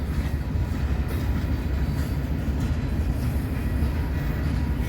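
A moving freight train near a Fremont rail yard gives a heavy, unbroken rumble of rolling cars and wheels, loud and near throughout, with no speech.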